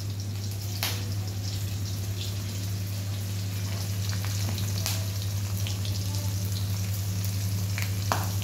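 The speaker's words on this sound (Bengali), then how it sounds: "পাঁচফোড়ন কাঁচা লঙ্কা তেলে দিয়ে দিয়েছে, এবারে সাঁতলে নেবে" Panch phoron and green chillies frying in hot oil in a kadai, giving a continuous close sizzle with scattered pops and crackles over a steady low hum. No one speaks.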